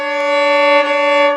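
One steady bowed violin note, held throughout and pitched slightly flat, sounding clear and close.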